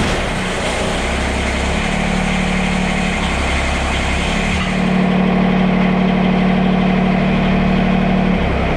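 A Kubota BX compact tractor engine idles steadily nearby with a medium-pitched hum while lifting a homemade weight bracket. The tone shifts slightly as load changes halfway through, and no one speaks.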